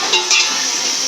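Tomatoes go into sautéed onions frying in a pan for biryani, giving a steady bright sizzle with a couple of soft stirring scrapes, close and continuous, no talk.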